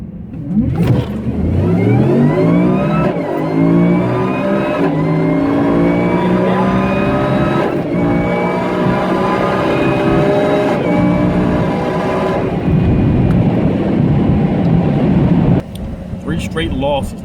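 A 2014 Nissan GT-R and a 2018 Whipple-supercharged Ford F-150, both running E85, launch in a drag race. The engines rev hard and climb through several upshifts, loud and close, before the sound drops off near the end.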